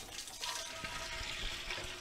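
Beer is poured through a short tube into a Mr. Beer keg, running down the inside wall as a soft, continuous trickling and gurgling of liquid, quiet and close, with no talking.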